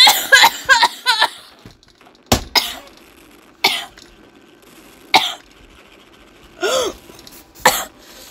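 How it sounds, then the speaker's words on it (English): Coughing from someone with a bad cold while gaming: a burst of several rapid harsh coughs, then isolated single coughs and throat sounds spaced apart, close and loud against near silence. "Oh my god, I don't want to cough."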